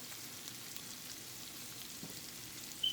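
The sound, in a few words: shrimp added to a sizzling pan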